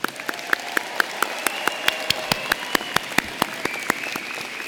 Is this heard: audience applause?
yes